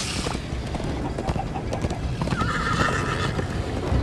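Hooves clip-clop rapidly in a steady gallop in Minecraft: Story Mode, and a horse neighs loudly partway through.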